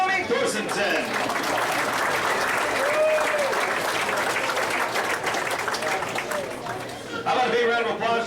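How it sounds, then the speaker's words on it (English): Banquet audience applause for street stock division drivers at a Brown County Speedway racing banquet, a steady dense wash of clapping with some chatter, continuing throughout. "How about a big round of applause for the top with all 10 through second anyway in the street stock division"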